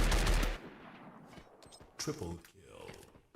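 Gunfire in the Free Fire mobile battle royale game during a Snapdragon Mobile Challenge esports match: a loud burst of rapid shots at the start, then scattered quieter shots and game effects.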